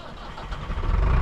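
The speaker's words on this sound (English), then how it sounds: "Tractor sparked up into action." A tractor engine at a boat slip cranks and fires, its low rumble building and growing louder toward the end as it catches.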